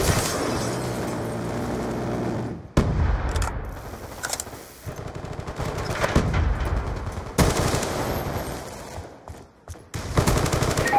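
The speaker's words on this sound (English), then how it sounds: "Death machine spinning up." Sustained bursts of heavy automatic fire from the Death Machine, a rotary gun in a multiplayer shooter game, loud and close, broken by brief pauses and mixed with other explosive battlefield gunfire.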